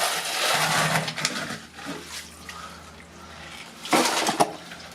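Water gushing out along a dirt wall inside a dug bunker, a broad, splashing rush that rises and falls in surges and swells loudest near the end.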